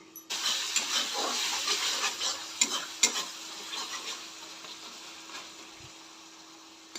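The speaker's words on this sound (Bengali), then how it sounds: "এটাকে আমি ঢেকে হালকা আঁচে পাঁচ মিনিট মতো মশলাটাকে কষিয়ে নেব" Spiced masala with tomatoes sautéing on low heat for an egg and potato curry, a soft hissing sizzle with scattered light stirring scrapes, fading slightly toward the end, no voices.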